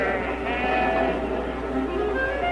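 Sheep bleat over and over, a dense, overlapping chorus of nearby animals calling continuously with a steady hum underneath.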